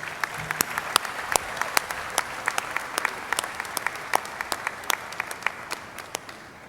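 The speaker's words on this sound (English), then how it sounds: "Let us make a round of applause for Dr. Brown" Applause for Dr. George W. Brown at the USC 79th graduation commencement: a modest crowd clapping in sharp, distinct claps that stay steady and fairly close, thinning slightly toward the end.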